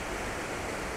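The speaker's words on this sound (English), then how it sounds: "a really nice water flow coming around those rocks" Water flowing around rocks at the base of a winter waterfall with ice, a steady, even broadband rush that holds constant throughout, fairly soft and close, with no voices.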